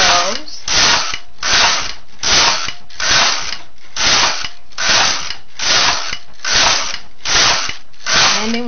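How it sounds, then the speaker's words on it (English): Knitting machine carriage slides back and forth knitting rows of a scarf, a rhythmic ratcheting rasp repeating about every 0.6 seconds, close and fairly loud, each pass swelling and fading evenly. "And attach the thread to the carriage and knit the scarf. And knit the required number of rows."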